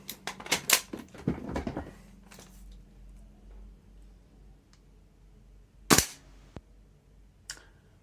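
A PTS Mega Arms gas blowback airsoft rifle fires BBs, giving a quick cluster of sharp, close snapping pops, then a single loud crack and a fainter one after a pause.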